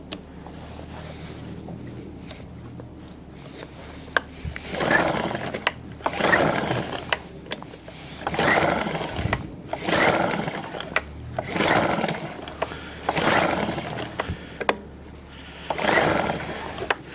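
A PC50 paddock cleaner runs its suction vacuum outdoors, a loud roaring surge that swells and fades in repeated bursts about every two seconds over a lower continuous mechanical hum.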